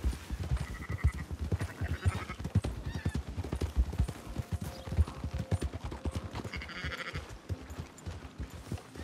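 Sheep bleat repeatedly amid busy hoofbeats and shuffling in the Red Dead Redemption 2 video game, with a flock moving close by and several overlapping calls.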